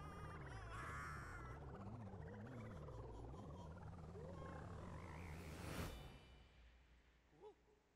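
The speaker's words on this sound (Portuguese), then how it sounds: "Virei um sapinho agora, ó." A frog croaks in the Super Mario Odyssey video game, a low rippling call that carries on under busy game sound and music before fading out.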